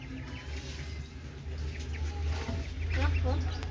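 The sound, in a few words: chicken clucking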